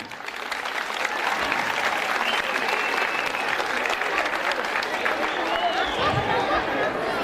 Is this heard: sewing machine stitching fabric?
no